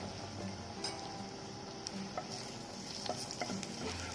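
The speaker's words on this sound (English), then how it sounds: "add a bit of garlic." Garlic sautés in heated oil in a pan for a minestrone soup, giving a steady close sizzle with occasional light stirring scrapes and faint clinks, no voices.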